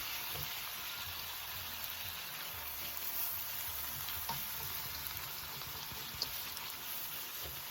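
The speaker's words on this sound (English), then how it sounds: "Add a tablespoon of flour. I'm making a roux." Flour and peppers frying in a pan to make a roux for jerk shrimp rasta pasta, a soft continuous sizzle with faint crackles and a light stir, quiet and steady without talking.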